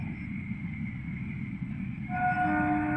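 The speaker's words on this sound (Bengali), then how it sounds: "বন্ধু লোকাল ট্রেন যাচ্ছে দেখো।" A local train rolls past in a rural rice-harvest setting, a steady loud rumble of wheels and carriages with a sustained horn-like tone rising near the end, no talking.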